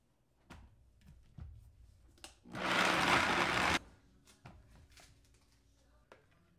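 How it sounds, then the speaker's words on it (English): A countertop blender roars loudly for about a second and a half, whirring through a vegan cheese sauce of nutritional yeast, fresh lemon juice and salt, with quiet clicks and handling noises before and after. "Now we're ready to blend."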